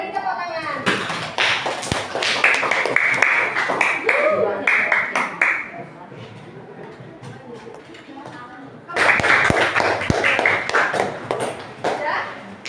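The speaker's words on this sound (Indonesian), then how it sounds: "Oke, beri tepuk tangan." A classroom of students claps hands in quick bursts of sharp claps that pause and then start again, with children's and a teacher's voices talking over and between them.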